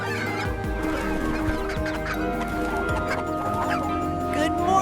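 Chickens clucking on a farm in the morning, a steady chorus of cackles and clucks over a constant background of music and a speaking voice.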